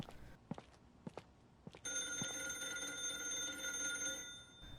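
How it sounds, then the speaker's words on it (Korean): A telephone rings steadily and loud in a horror video game about a beaver, its sustained electronic bell tone starting partway through after a few footsteps and soft knocks in a quiet basement. "그때 전화가 걸려오고"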